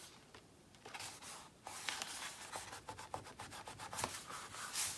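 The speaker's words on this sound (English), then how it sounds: "Just burnishing extra right here because that's where the magnet is." Paper on a handmade mini album is rubbed with a burnishing tool in quick, soft, close strokes, faint and papery, repeating in short bursts.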